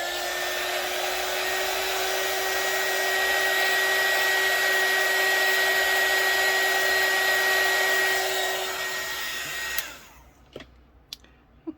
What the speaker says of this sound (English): Now I'm going to use my hot air gun on here, so excuse the noise.